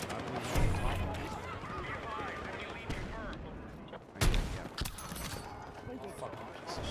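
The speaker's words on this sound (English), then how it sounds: "I just sniped 2 of them off that building" Battlefield 6 firefight with a couple of loud, sharp sniper rifle cracks, spaced seconds apart, over a busy backdrop of distant gunfire and rumble, with voices murmuring underneath.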